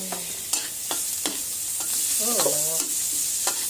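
Garlic and onion frying in reused cooking oil in a pan for adobong kangkong with dried fish, with a steady close sizzle broken by several sharp spatula scrapes and stirring knocks.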